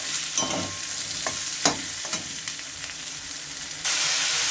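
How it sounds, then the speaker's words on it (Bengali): Gobindobhog rice frying in oil in a pan, for a fish-head muri ghonto: a soft, continuous sizzle with a few scraping stirs, nearby and without speech, growing slightly louder at the end. "এবার দেবো চাল চালগুলো দিয়ে একটু ভেজে নেব"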